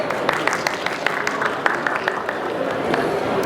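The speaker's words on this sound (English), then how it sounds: "Round of applause for Anger." A panel audience at a stage event claps in a short burst of applause, scattered sharp claps over a crowd murmur that fades slightly.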